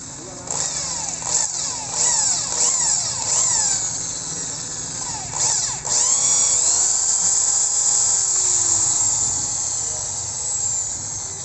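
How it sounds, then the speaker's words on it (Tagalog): A high-pitched electric drill whines as it bores a 3/16-inch hole into an engine cylinder head for a motorcycle stud repair, with short bursts early on and then a long steady run, loud and close. "I-next natin yung 316 na barina"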